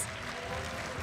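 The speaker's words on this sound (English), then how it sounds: "let's give them a big round of applause" An esports audience at a mobile game knockout match applauds steadily, a soft, distant wash of clapping with no voices.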